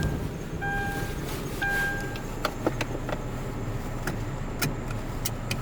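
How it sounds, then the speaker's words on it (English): A steady car cabin rumble with a pair of short electronic seatbelt-reminder beep tones near the start, followed by scattered faint clicks and ticks. "that stupid seatbelt fucking noise, I know I don't have my seatbelt on"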